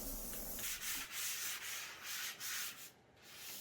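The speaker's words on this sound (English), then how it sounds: "I lightly sanded the surface with a 400 grit sanding sponge" Steady, gentle scratchy rubbing of a 400-grit sanding sponge lightly over a surface, repeated in short back-and-forth strokes with brief pauses.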